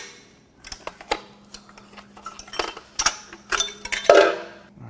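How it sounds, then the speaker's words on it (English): Irregular metallic taps and clinks of a hammer striking an engine clamp on a BMW M5 S63Tu twin-turbo V8 during teardown, a dozen or so hits of varying force close by, with no speech. "Let's use the hammer."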